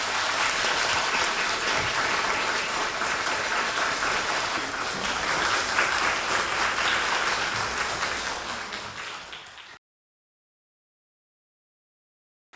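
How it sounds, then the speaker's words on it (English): Sustained audience applause welcoming a Buddhist teacher to a lecture hall at Sichuan University's School of Literature and Journalism, dense and steady clapping for about ten seconds before fading and stopping abruptly. "let's give our warmest applause together"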